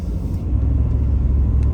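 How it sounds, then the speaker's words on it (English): A 1992 Pontiac Firebird Formula accelerates with a steady, loud, low engine rumble and growl that swells slightly as it pulls, close to the car. "Car accelerates just like it should."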